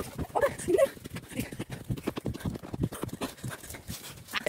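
At a riding stables camp, a horse's hooves clip-clop in a steady, rhythmic series of close hoofbeats, with faint voices mixed in.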